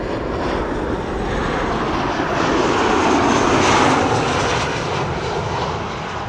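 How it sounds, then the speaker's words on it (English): Ryanair Boeing 737 arriving from Dublin at Amsterdam Schiphol Airport, its engines roaring loud and steady as it passes close, the broadband rumble swelling slightly mid-pass before easing off. "Ryanair arriving from Dublin,"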